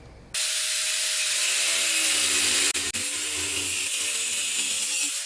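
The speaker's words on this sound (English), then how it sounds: "We're going to be using an angle grinder with a cutoff wheel to make the cuts." An angle grinder with a cutoff wheel spins up abruptly and cuts into deer antler, giving a loud, steady high-pitched whine and grind. It dips briefly twice midway, then carries on.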